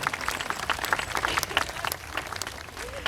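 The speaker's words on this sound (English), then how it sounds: "A round of applause for him." A zoo audience applauds a sea lion named Elmo at an outdoor sea lion show, steady clapping from a crowd for about three seconds with a faint voice briefly over it.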